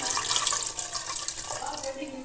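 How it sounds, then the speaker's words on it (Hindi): Water splashes and rushes steadily into a pan of fried potatoes and peas, a continuous bright pour close by with slight bubbling. "अब मैं इसमें इतना पानी डालूंगी जितना मुझे ज़रूरत है"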